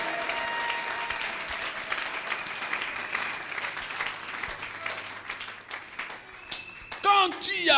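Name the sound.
congregation applauding, acclaiming Jesus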